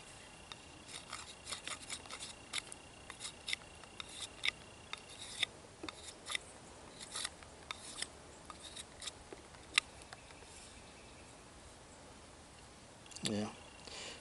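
Willow wood is split and peeled apart by hand while a net needle is carved with a small knife, giving a run of quiet, close crackling snaps and clicks at an uneven pace, with a louder rustle near the end.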